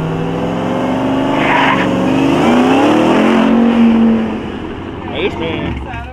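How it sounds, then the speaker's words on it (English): A Mopar muscle car engine revs hard at a car meet featuring Dodge TRX trucks, a loud sustained roar with rising and falling pitch, followed by a couple of quicker blips while people talk nearby. "when you did that rev, my hat almost flew off"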